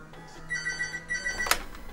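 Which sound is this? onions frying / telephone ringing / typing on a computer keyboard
telephone ringing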